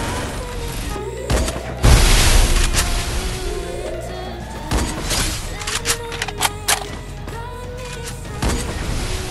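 Gunfire in a mobile battle-royale shooter game sounds in bursts over the in-game soundscape: a heavy boom near the start, then scattered single shots and short rapid volleys, loud and punchy, with rising engine or vehicle tones between them.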